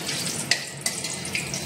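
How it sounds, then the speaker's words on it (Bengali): Tap water runs steadily into a kitchen sink while raw chicken is washed, a continuous splashing hiss with a couple of brief clatters of something being handled under the stream. "এই চিকেন ধুতে হবে"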